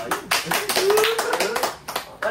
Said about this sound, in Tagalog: Palakpak mo na mga audience.